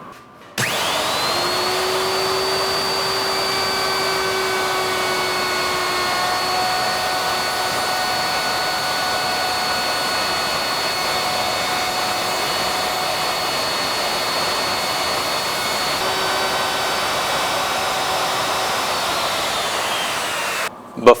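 A router cutting wood on a blanket chest clamped to a table, giving a steady, loud high-pitched whine that holds nearly constant for about twenty seconds, with a slight pitch shift partway through.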